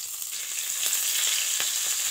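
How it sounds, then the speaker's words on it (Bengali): Panch phoron, onion and green chili fry in oil in a kadai, giving a continuous bright hiss with a few faint pops. It is close and even, with no voices. "ওই কড়াইতে তেল দিয়ে দিলাম, 5 ফোড়ন, পেঁয়াজ কাঁচা লঙ্কা"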